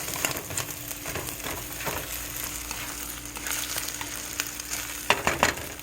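Meat sizzles and fries steadily in a pan while eggs are stirred through it, with scraping and clattering utensil strokes and a few sharper knocks near the end, close and fairly loud with no talking.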